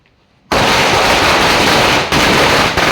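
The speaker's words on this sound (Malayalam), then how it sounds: "പടക്കത്തിന് തിരി കൊളുത്തുന്നു." A firecracker bursts after its wick is lit during Vishu celebrations, exploding in a sudden loud, close roar of rapid crackling and popping that continues to the end after a quiet moment.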